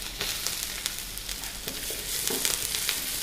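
Ginger and garlic pieces fry in smoking oil with a steady, close hiss and crackle, small pops and stirring scrapes breaking through the sizzle.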